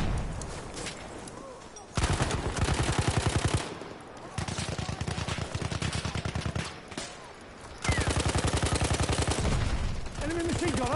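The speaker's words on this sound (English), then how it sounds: "Enemy machine gun over there!" Enemy machine gun fire in a video game battle rattles in long rapid bursts, loud and close, broken by short pauses amid constant combat noise.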